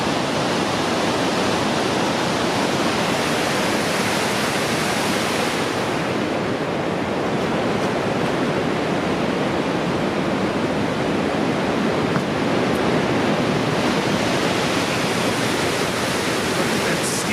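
A large waterfall roars at the Grand Canyon of the Yellowstone, a steady dense rushing wash of falling water that stays loud and unbroken throughout, with no voices.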